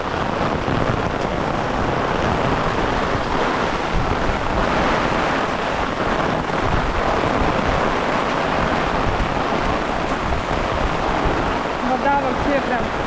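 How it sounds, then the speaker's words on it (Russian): Heavy pouring rain during a downpour in Korea, a dense steady roar of water and streaming runoff, close and continuous, with wind rumble buffeting the microphone throughout. "И такой дождь вот прям льет."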